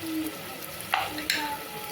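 Potatoes and peas fry in a pan with salt for a potato biryani, a steady close sizzle broken by two brief scraping strokes of stirring.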